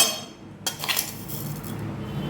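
A metal spoon clinks and scrapes against a container as sugar is spooned into pulao cooking in a pressure cooker, a short run of light, close clattering taps with no talk.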